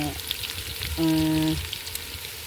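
Chana dal, urad dal, cumin, green chilli and onion fry in hot oil over a stove, a close, steady crackling sizzle with a brief tonal hum in the middle.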